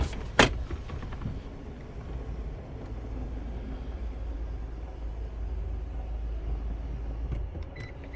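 Electric seat motor in a 2018 Toyota Land Cruiser Prado whirring steadily inside the cabin as the seat adjusts, a soft continuous hum after a brief click at the start.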